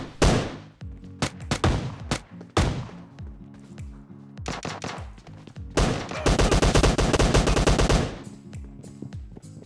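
Heavy enemy gunfire in a mobile battle royale shooter game: sharp single shots and short bursts ring out near and loud, then a long rapid automatic volley of about two seconds, with no talking.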